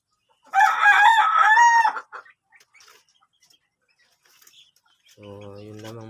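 Texas gamefowl at a small backyard poultry pen: a loud close rooster crow, then a few soft scattered clucks and quiet gaps, ending with a low voice talking.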